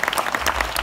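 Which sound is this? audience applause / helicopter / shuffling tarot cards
audience applause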